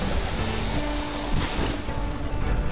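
A robot in the Lightyear Frontier farming game sprays water to clear slime, making a continuous rushing, splashing hiss of water that runs throughout at an even, fairly loud level.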